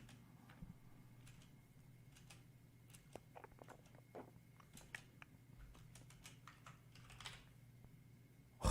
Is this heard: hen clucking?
no